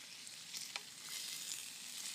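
Squirrel meat fries in a pan over an outdoor campfire in the woods, giving a faint, steady hiss of sizzling fat with tiny pops, quiet and continuous with no talk.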